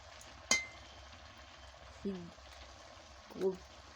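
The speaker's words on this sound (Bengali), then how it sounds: "এবার আমি ঢাকাটা খুলে নিচ্ছি" A cooking pot lid clinks softly three times in a home kitchen where cauliflower and potatoes are boiling for a fish curry, each sharp metallic tap separated by a quiet bubbling background.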